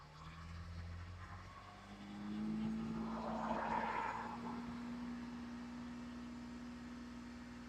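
Cadillac XT5 engine revved up and held at 2,500 RPM during a battery charging test, a steady low drone that rises about midway and then holds, quiet and even, with no talking.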